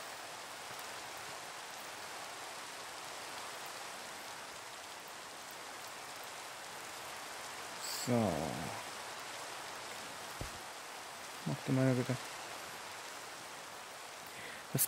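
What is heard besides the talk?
rain falling in video game Minecraft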